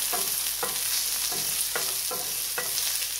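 Scallion and thyme sauté with onion in a pan for Jamaican tofu in black bean sauce, a close steady sizzle broken by regular spoon stirs about every half second.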